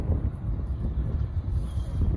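Strong wind buffets the microphone outdoors during a kite-flying session, producing a continuous low, rumbling roar with no pause.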